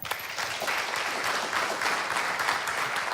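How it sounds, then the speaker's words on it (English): An audience at a church event on bullying bursts into dense, sustained clapping that holds steady and fairly loud throughout, with no voices breaking through. "So I want you guys to clap if you have ever been bullied"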